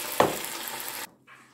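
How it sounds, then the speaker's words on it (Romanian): Bacon and sausages sizzle in a pot, a close steady frying hiss with a brief stir near the start that stops abruptly, followed by faint quieter sizzle. "Prăjim baconul și cârnați."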